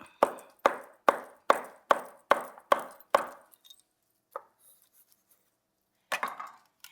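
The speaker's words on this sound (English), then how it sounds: "a nice lightly brown 2-egg omelet, and we chop it" A knife chops a rolled, lightly browned two-egg omelet on a board: eight crisp, evenly spaced cuts, then a few scattered taps, a pause, and a final quick pair of chops.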